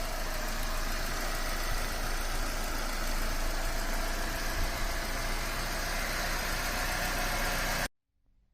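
A Mercedes car engine idles right after an oil change, a steady close drone with a faint knocking vibration that runs unbroken for about eight seconds and then cuts off abruptly into near silence.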